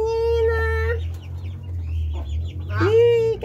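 A hen clucks loudly and close with her chicks on a farm, the calls broken up by a steady low rumble and chick peeps, while a person talks nearby.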